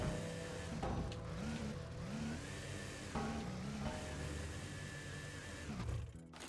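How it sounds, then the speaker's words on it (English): A vehicle engine in the Scrap Mechanic video game is cranked to maximum. It drones loudly and steadily, with the revs swooping up and down several times before easing off at the end, and no talk. "And crank up the engine to the maximum."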